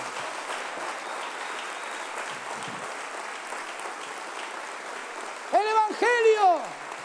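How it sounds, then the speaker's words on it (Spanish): Steady applause from a church congregation during a sermon, even clapping that holds throughout, with a voice calling out near the end. "Fuerte ese aplauso, vamos."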